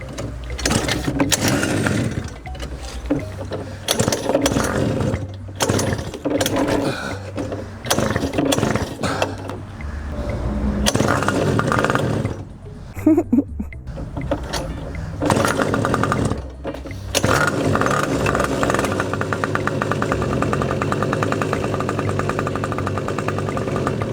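Homemade go-kart's small engine revving in uneven bursts, loud and close, with choppy mechanical rattling, cutting out briefly and restarting before holding a steady buzzing drone.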